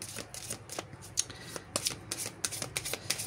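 Lenormand oracle cards are shuffled by hand close up, a quick run of soft riffling slaps and flicks that continues through the whole stretch.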